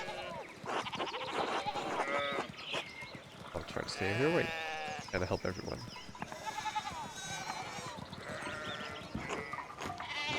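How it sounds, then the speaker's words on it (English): Sheep bleat repeatedly in the video game Pentiment, several wavering calls scattered across the scene while characters talk over them. "One of the fence rails fell and the sheep started hopping it."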